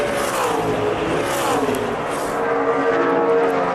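NASCAR race cars racing at Kansas in 2009, a loud sustained engine roar with rising and falling pitch as cars pass, with no voices.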